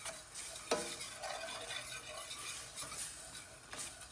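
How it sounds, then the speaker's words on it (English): Tomato paste and Dijon mustard are stirred into onions in a pan for a beef in red wine stew, giving soft scraping strokes and a light sizzle, with one sharper clink early on and no voices. "let's put in the tomato paste and the Dijon mustard. And we're going to give that just a brief stir around."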